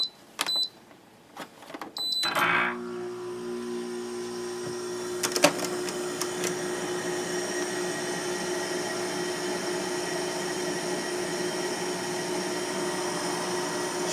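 A GE 6050 BTU window air conditioner with a Queen compressor clicks on, then its fan and compressor settle into a steady, continuous hum and whir that runs unbroken to the end.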